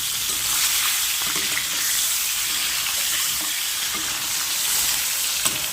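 Eggs frying in a pan in a home kitchen produce a loud, steady sizzle close up, with light crackling and occasional spatula scrapes throughout.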